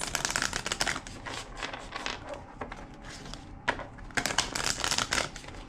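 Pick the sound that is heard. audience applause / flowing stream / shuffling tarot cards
shuffling tarot cards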